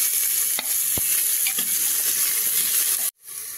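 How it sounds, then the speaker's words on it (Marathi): Tomatoes go into a pan of browned onions and sizzle steadily as they sauté, with a few scraping stirs of a spoon before the frying noise abruptly cuts out near the end. "आपण टोमॅटो टाकणार आहोत। टोमॅटो थोडं परतून घ्यायचं।"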